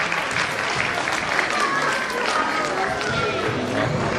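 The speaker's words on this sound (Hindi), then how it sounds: "थोड़ा और मजबूती से तालियां बजाइए" Parents at a play-way school's annual function clap steadily, a dense, sustained wash of many hands that holds at an even level from start to finish.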